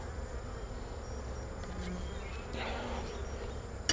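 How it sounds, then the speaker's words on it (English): Honey bees swarm around an open hive during an inspection, a dense steady buzz close to the microphone with individual bees sweeping past, unbroken throughout. "I'm gonna smoke the bees down off the excluder if I can"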